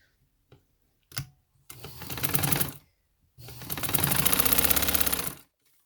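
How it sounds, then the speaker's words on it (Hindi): A sewing machine stitching a salwar runs close up in two bursts of rapid, even needle clatter, the second one longer, separated by a pause and a few faint clicks. "देखो, यहाँ से सिलाई लानी जहाँ टिकन हमने चिपका दी हुई है।"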